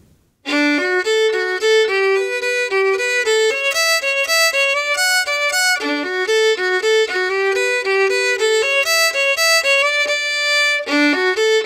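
A violin plays a lively Estonian labajalg folk tune with quick, even notes and short rhythmic figures, close and clear with no talking.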